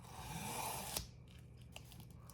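Scissors cut through paper journal pages with a steady papery snip that ends in a sharp closing click, followed by a few soft, faint rustles and taps.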